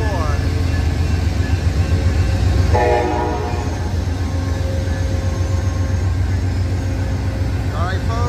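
Amtrak Coast Starlight train #14, led by a P42 locomotive and Heritage Unit #301, rumbles loudly through Oakland's Jack London Square station, its horn sounding in short blasts early, midway and near the end.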